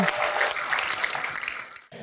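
A studio audience at a televised talk show claps in a dense, sustained burst of applause, briefly dropping off before resuming.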